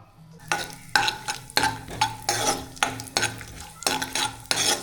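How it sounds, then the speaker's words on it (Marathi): Cashews and almonds fry in ghee for modak filling, with repeated stirring scrapes and clinks of a spoon in the pan over a steady sizzle, in roughly regular strokes about every half second, close and fairly loud. "काजू बदाम मस्त आता फ्राय करून घेते."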